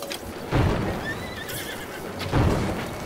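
A horse whinnies in a high, shaky neigh in Zelda: Breath of the Wild, with heavy thuds of hooves or movement around it.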